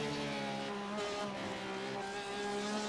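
Race cars at Le Mans in a sim racing game, GTE and Radical class, with a loud sustained high-revving engine drone holding steady pitch and near, no talking.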